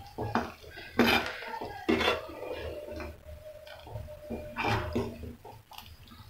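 A utensil scrapes and clinks against a pan as grated cheese is stirred into white sauce pasta, giving sporadic close metallic taps and scrapes over a quiet kitchen background.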